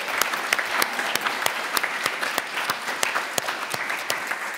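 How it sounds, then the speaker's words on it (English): Applause from a conference audience of roughly 180 people: dense, brisk clapping at moderate volume that holds steady for several seconds with no voices over it. "give her a round of applause."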